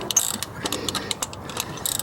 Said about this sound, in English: I think it's almost time for a new ratchet here.